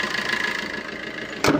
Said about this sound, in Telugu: ఇంజన్ సౌండ్ కూడా చూపెట్టిన మీకు.